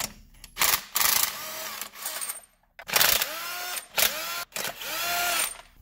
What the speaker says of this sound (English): you can use your favorite impact driver or air wrench just to run them out